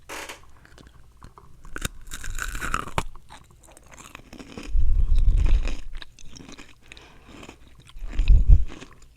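Close-up crunching of hard candy being chewed, with scattered crackly bites early on and two louder, deeper crunching bursts later, no talking.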